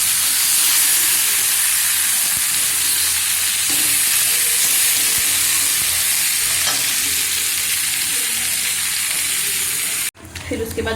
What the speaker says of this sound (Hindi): सिर्फ थोड़ा मसाला के साथ भून रहे हैं